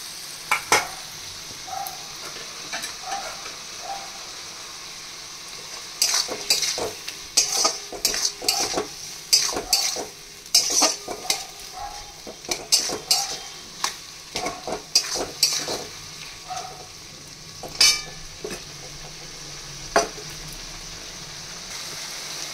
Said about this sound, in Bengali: ভাজা আলুগুলো দিয়ে দেব।